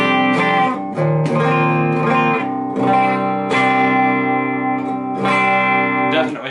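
Electric guitar played through an Orange Micro Terror amp with fizzy distortion, ringing chords struck one after another with sustained, buzzing tails, loud and close.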